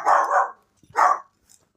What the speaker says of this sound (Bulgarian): Извинявайте за нашето кученце.